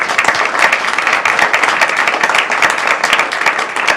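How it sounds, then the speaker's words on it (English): A city council meeting crowd gives award recipients a loud, sustained round of applause, with dense overlapping claps continuing evenly throughout. "let's give them all one more round of applause"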